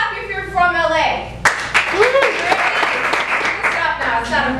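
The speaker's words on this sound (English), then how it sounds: "So clap if you're from LA." Audience at a storytelling show in a salon venue claps and cheers from about 1.5 seconds on, a steady crowd wash that continues to the end, following a short stretch of speech at the start.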